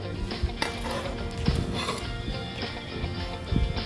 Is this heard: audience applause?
no